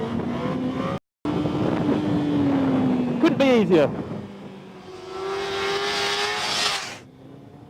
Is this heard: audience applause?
no